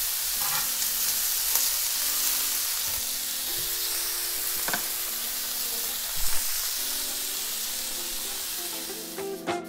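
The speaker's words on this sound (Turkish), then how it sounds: "Tavamın diğer tarafında ekmeklerimi kızartmak için şu şekilde birazcık tereyağı eritiyorum." Butter melts, sizzles and fries steadily in a hot griddle pan, a continuous crackling hiss with occasional light clinks of a utensil.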